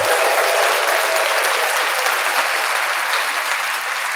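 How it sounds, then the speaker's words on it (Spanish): Applause fills a podcast session, a dense, bright clatter of clapping that holds steady and loud from start to finish, with no talking over it. "déjame darle un aplauso a Diego"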